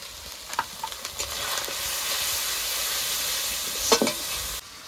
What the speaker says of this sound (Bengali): ভালো করে নেড়ে চেড়ে মশলাটা কষিয়ে নেব